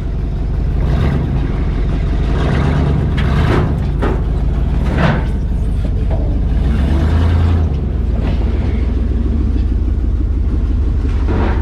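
A Duramax pickup truck drives off a trailer without ramps, its engine rumbling loudly and steadily with clunks and thumps as it rolls down.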